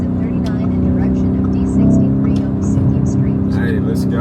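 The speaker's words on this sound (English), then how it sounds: "Is that a Ferrari?" A Ferrari sports car on a Dubai street gives a loud, continuous engine roar that swells briefly as it goes by. Voices talk over it.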